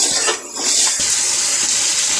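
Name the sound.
water poured into pot of fried chicken masala for biryani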